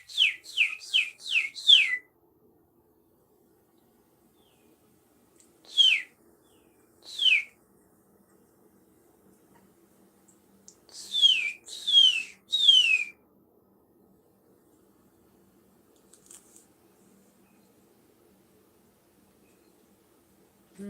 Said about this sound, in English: I don't know what kind of birdie that is.